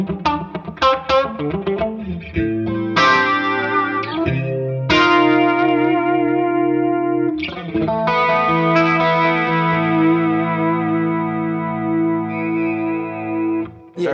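A clean electric guitar on a regular position 2 pickup tone plays a series of ringing chords and single notes. Some are short and plucked, others sustain with a light chorus shimmer. No talking is heard.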